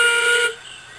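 A steam locomotive whistle gives one loud, bright blast lasting about half a second, then cuts off abruptly into quiet.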